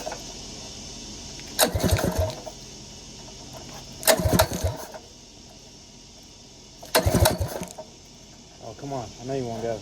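A cheap $15 go-kart engine is cranked three times in separate bursts, each a short sputtering turnover that fails to catch, with a faster rattling pull at the end.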